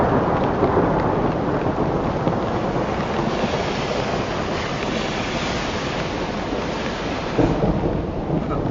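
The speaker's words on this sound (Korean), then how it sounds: "지금 번개도 치고 비가 많이 오고 있는 상황입니다" Steady, dense roar of heavy rain with low rumbling thunder at a Tesla Supercharger station, continuous throughout with a brief louder burst near the end; no voices.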